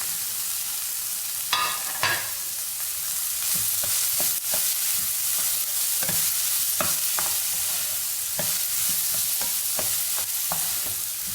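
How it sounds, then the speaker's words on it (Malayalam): Chopped onion, green chili and capsicum stir-fried in a pan, a steady close sizzle with repeated scraping strokes of a spatula every second or so, no voices. "സവാള, പച്ചമുളക്, ക്യാപ്സിക്കം നമ്മൾ ചെറുതായിട്ട് കട്ട് ചെയ്തുകൊണ്ട് പെട്ടെന്ന് തന്നെ നമുക്കിത് വഴറ്റി കിട്ടുകയും ചെയ്യും"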